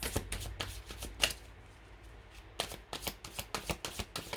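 Tarot cards being shuffled by hand, a run of close, crisp riffling bursts at the start, a brief pause, then a steady series of quick card flicks and slaps, no voices.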